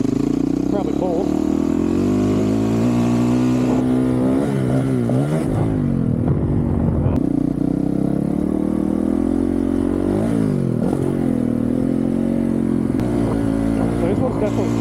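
A 2023 Honda CRF450RL dirt bike engine revs hard in third gear over motocross jumps, loud and close, rising and falling in repeated surges with brief throttle chops and clattering.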